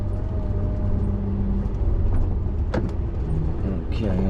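A truck's engine rumbles low and steady while it backs into a yard at night, with faint clunks and brief rattles, as someone talks over it.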